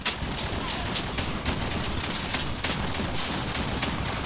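Prometheus V plasma emitters fire on full auto in Crossout, a dense, unbroken rattling barrage that stays loud and steady from start to finish, with occasional sharper pops standing out. No voices are heard.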